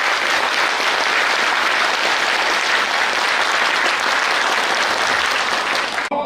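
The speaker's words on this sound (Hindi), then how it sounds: "एक बार डेमो करके दिखाएंगे आप तालियों?" Sustained, loud audience applause at a motivational talk in India, dense steady clapping from a large crowd lasting about six seconds before cutting off abruptly.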